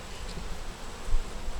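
A dense, steady hum of many insects buzzing up close, a continuous low drone with slight swells in loudness.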